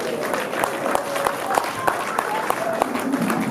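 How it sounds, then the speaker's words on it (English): An audience applauds a speech at an annual global summit, a steady wash of clapping with scattered sharper claps and crowd noise, voices faintly mixed in. "Let's keep on clapping for him"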